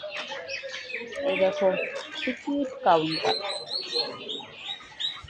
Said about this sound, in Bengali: দেখো পাখিগুলো কেমন ডাকছে